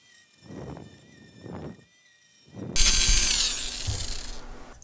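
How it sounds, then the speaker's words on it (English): A rough grinding bit worked slowly against a part during a Toyota 4Runner solar panel install gives a sustained, harsh, high whine that starts after a few soft knocks and runs steadily to the end. "I'm just using this rough bit, and I'm just gonna grind away at it slowly"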